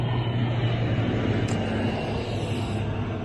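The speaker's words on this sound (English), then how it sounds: "I could watch planes all day long," A fixed-wing airplane flying over the South Carolina coast near Myrtle Beach, a steady engine drone held at a constant level through the short stretch, with no voices.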